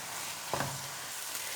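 A chicken and breadcrumb mixture cooks in a pan, giving a steady, close hiss of sizzling with a brief scrape of stirring partway through and no speech.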